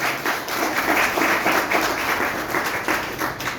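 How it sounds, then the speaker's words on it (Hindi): An audience at a business development seminar in a hall gives a loud round of applause, a dense, steady clatter of many hands lasting several seconds with slight swells and no talk over it. "मां गुरुकुल का जोरदार ताली।"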